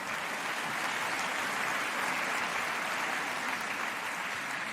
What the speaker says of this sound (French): C'est bien, vous applaudissez à ça.